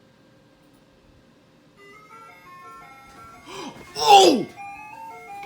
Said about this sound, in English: You know an ice cream truck should come?